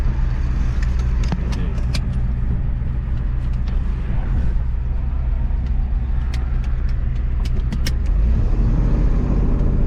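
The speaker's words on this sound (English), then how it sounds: "Oh, I spun tires." A 1989 Ford F350 truck from Western New York spins its tires, giving a loud, continuous engine rumble and road roar that swells slightly near the end, with small rattles and clicks over the top.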